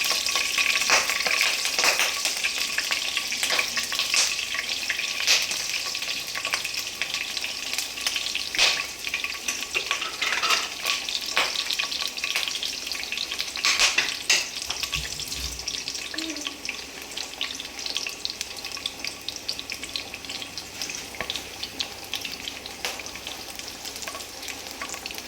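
Cinnamon, cardamom pods and cashews sizzle steadily in hot oil for a vegetarian pulao, a bright continuous crackle with occasional louder pops and faint stirring, close and unbroken.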